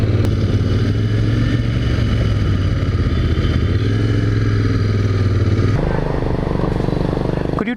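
A Royal Enfield Continental GT 650 twin-cylinder motorcycle rides along with a steady, throaty engine note under constant wind rush, dropping in pitch as it shifts near the end.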